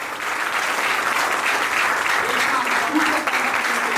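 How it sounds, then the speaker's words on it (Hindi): Loud, dense audience applause at a Hindi poetry gathering as poet Pawan Banke is introduced, continuous clapping from a large crowd held evenly for the whole stretch. "दोस्तों जोरदार तालियां बजाइए"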